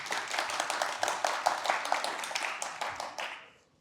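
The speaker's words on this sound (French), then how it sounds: "On peut l'applaudir, s'il vous plaît." An audience at a talk applauds the speaker, a burst of scattered handclaps that is steady at first and then thins out and fades.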